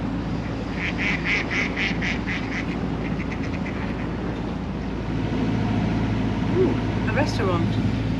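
Ducks quack in a rapid burst early on beside a restaurant on the water, over a steady boat engine hum and water noise, with faint voices of diners in the background.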